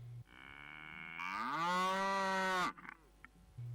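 A cow on a dairy farm gives one long, loud moo of more than two seconds that rises in pitch and strength before cutting off. Faint lowing is heard before it and again at the end.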